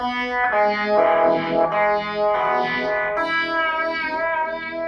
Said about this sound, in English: I also have a rotovibe, kind of a Jimi Hendrix sound.